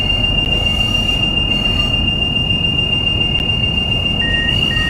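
A video game train rumbles steadily along with a high, continuous metallic wheel squeal, loud and close throughout.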